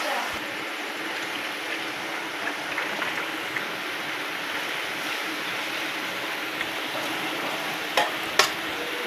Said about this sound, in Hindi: अब हम डालते हैं पानी, थोड़ा सा डालेंगे चने वाला पानी